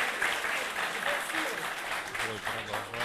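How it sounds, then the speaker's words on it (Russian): Spectators at a boxing and fighting arena applaud in a broad, steady wash of clapping, while a voice speaks over the crowd noise toward the end. "Аплодисменты!"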